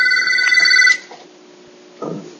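An office telephone rings in a dentist's practice, a bright repeating electronic ring lasting about a second and then stopping, followed by a brief low rustle.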